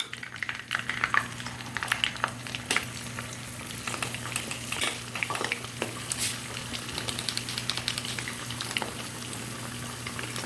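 Chicken fries in oil with a soft continuous bubbling sizzle, punctuated by sharp pops and crackles, under a low steady hum.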